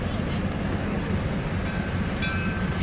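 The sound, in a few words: train passing in a played video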